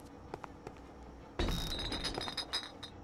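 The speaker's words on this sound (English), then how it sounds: "Smashed a wine bottle over his face." A wine bottle smashes over a man's face in the indie horror game Lucius: a sudden, loud burst of breaking glass with bright clinking shards that ring on briefly after the quiet lead-in.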